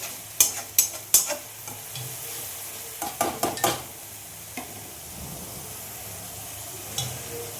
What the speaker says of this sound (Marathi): अजून थोडं फ्राय होऊन द्यायचं अजून थोडं लाचून होऊन देऊ आपण